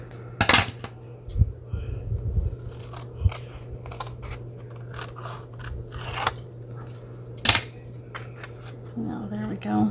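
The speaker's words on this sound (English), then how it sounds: "Now we'll have to trim this edge a little bit. So let me get my scissors." Scissors trim the edge of cardstock on a layered handmade greeting card. Several sharp, close snips come in short bursts, with small clinks and handling noises between them over a low steady hum.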